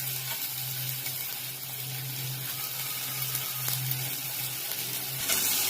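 Small shallots sauté in a pan with mustard seeds and fennel for a tomato soup base, giving a steady soft sizzle with a faint low hum underneath and a brief clatter near the end.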